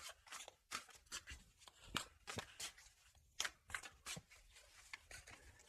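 Tarot cards are shuffled and drawn by hand in a quiet room, giving a string of soft, quick riffling and slapping bursts with short gaps between them.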